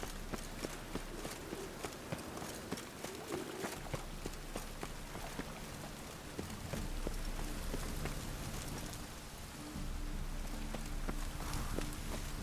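Rain falls steadily in The Witcher 3: Wild Hunt, a constant soft patter with scattered sharp drops, mixed with rhythmic footsteps or hoofbeats and a low rumble.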